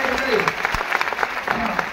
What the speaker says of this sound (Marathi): त्याच्यासाठी एकदा जोरदार टाळ्या होऊ द्या.